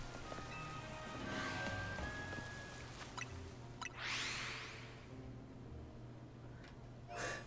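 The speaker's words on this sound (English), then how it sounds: "it's raining in game" Rain in a Pokémon game falls as a soft, steady patter with scattered brighter drips and splashes, fairly quiet beneath a low looping musical hum.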